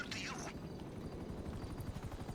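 A Buzzard attack helicopter in GTA Online thrums with a steady rotor chop beneath a brief high whine, continuous and moderately loud under game noise and chatter.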